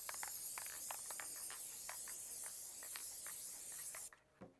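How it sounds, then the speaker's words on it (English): Adhesive spray from an aerosol can is applied onto the trace stitch in an embroidery hoop before a split-front jersey is laid on top, giving a steady close hiss with short bursts that cuts off abruptly near the end. "we're gonna use the adhesive spray"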